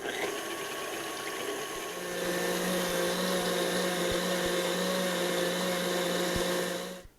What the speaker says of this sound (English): I'm going to add my whisk attachment, and I'm going to beat the heavy cream until I have nice stiff peaks